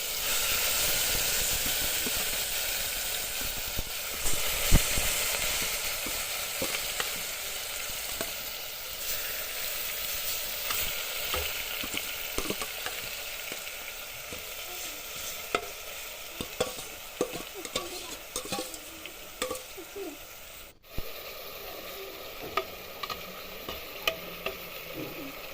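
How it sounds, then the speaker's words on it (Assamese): Chicken pieces frying in a pan for biryani, a steady hissing sizzle with frequent clicks and scrapes of stirring that grow sparser toward the end, close and moderately loud. "মাংসখিনি ইয়াত এতিয়া মই অলপ অলপকৈ দি ভাজিম।"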